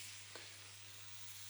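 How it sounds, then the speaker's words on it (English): Mushrooms sizzling in butter in a pan, a faint, steady frying hiss with a low hum beneath, no talk. "We really want to get them sizzling."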